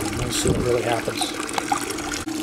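Water runs and swirls in a blue bowl gold concentrator, a steady rushing trickle with splashy spikes heard under someone speaking close by.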